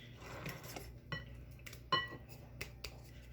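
A meatloaf mixture is mixed with a whole jar of salsa, heard as a few quiet, sparse clinks and taps of a utensil against a bowl with soft handling noise between them.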